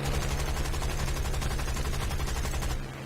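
Aircraft guns fire in War Thunder as shots hit an enemy plane, a rapid, unbroken stream of loud automatic bursts that cuts off abruptly just before the end.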